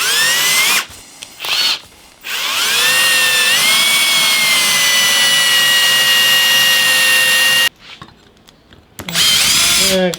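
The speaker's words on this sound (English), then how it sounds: "The next thing we got to do is drill the 4 holes to mount the stepper." A power drill whines loudly and steadily drilling mounting holes for a stepper motor, running in short bursts at first, then a long continuous drilling run, stopping and restarting near the end.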